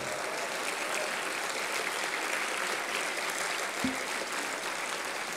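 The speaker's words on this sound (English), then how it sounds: "Give them a big round of applause too." A school assembly audience gives teachers a long round of applause, a broad, even wash of many hands clapping, somewhat distant and steady throughout, with no voices heard.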